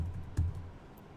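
A command being typed on a computer keyboard during Linux system updates: a handful of quiet, close key taps, each short and soft, with one firmer press near the middle, and no speech.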